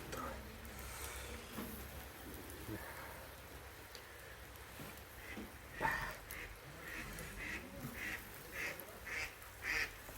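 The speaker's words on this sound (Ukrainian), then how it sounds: "Качка полетіла. Так кричить, летить" A duck quacks several times in flight against steady rainfall, the calls rising clearer toward the end, with faint voices in the background.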